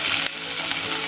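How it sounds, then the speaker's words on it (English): Onion and chicken pieces sizzle loudly in a hot pan while being stirred, a bright continuous frying hiss broken briefly by a scraping stir, close and alone. "We stir it well, just to make the onion separate piece by piece."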